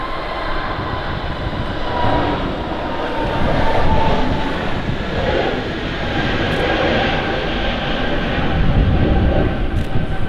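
An Emirates A380 airliner taxis out at Manchester Airport, a loud, steady engine rumble with a broad roar that swells slightly midway, heard close and with no voices.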